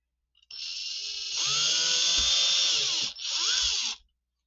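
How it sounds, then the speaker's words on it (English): An electric power drill whirs loudly while boring screw holes into a wooden guitar body, spinning up, holding a steady high whine for several seconds, briefly easing off, then bursting again before stopping. "Now I'm going to make the drill holes for the new"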